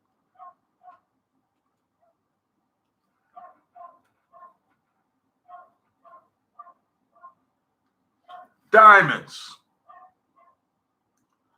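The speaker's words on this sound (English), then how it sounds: "That's a barking dog." A single dog gives one sharp, fairly close bark that stands out after a quiet stretch of faint, regular ticking clicks, with a brief whimper-like trail afterward.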